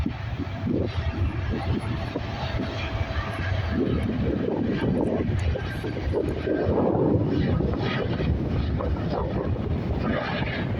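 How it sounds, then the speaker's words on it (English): A Qatar Airways jet takes off from Edinburgh Airport, its engines producing a broad, steady roar that swells slightly midway and holds strong, with some wind buffeting and faint voices beneath. "Qatar, our final plane of the day. Let's have a quiet moment to see this takeoff."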